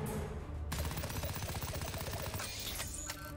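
A turret in the video game South Park: The Fractured But Whole fires a rapid, evenly spaced burst of shots lasting about two seconds, loud and close, followed by a few scattered impacts.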